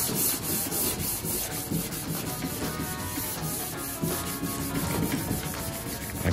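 Hand sanding blue paint off the door jamb of a Chevy C10 squarebody truck, a continuous loud scratchy rubbing with quick back-and-forth strokes, close and with no voices.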